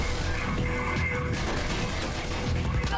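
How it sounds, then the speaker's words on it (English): Sustained gunfire from police in the video game Mirror's Edge, shooting at vents; a dense, loud, continuous fusillade of rapid shots with crashing debris, steady for three seconds. "they're shooting the vents. They're shooting the vents now"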